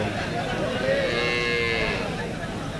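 A single drawn-out moo from a Sindhi cross cow, moderately loud and near, over a steady background hum.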